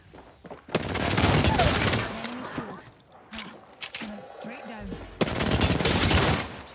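Video game gunfire with sniper shots, loud bursts of shooting in several clusters, with people talking over the action.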